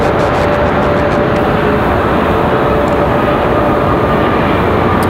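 A Delta airliner powers up for takeoff at Raleigh-Durham International Airport, giving a loud, continuous jet engine roar with a broad rumbling body and a faint steady whine, heard up close.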